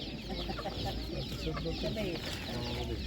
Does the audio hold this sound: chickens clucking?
yes